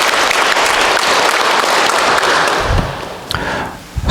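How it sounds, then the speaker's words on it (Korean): A church congregation at Sunday Mass applauds to welcome a priest, a loud, dense wash of clapping that tapers off near the end, leaving a few stray claps and faint rustling. "박수로 환영해 주세요."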